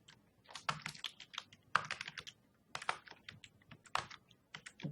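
Quiet, close computer keyboard typing: bursts of quick crisp key clicks in irregular clusters with short pauses between them, fairly faint and alone.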